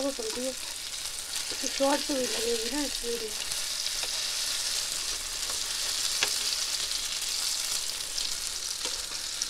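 Hara bhara kebabs fry in oil in a pan with a steady, close sizzle and hiss. A few brief clinks and scrapes come as they are turned, and short faint voice fragments sit near the start.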